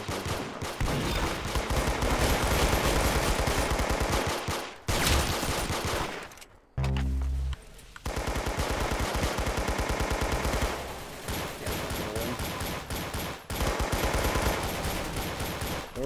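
Player's gun firing in the video game Arsenal: loud, continuous rapid automatic bursts, with one brief pause and a short gap partway through, then sustained fire resumes.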